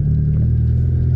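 Toyota Starlet engine heard from inside the car, a loud, close, steady low rumble with a slight rev, no talking over it.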